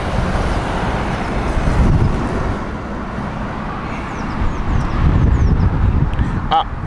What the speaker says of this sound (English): British Airways 777 from San Francisco here next.